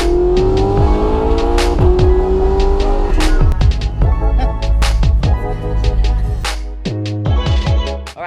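A powerful Audi R8 or BMW M4 engine revs hard and accelerates, pitch climbing and dropping through rapid gear changes, loud and close throughout.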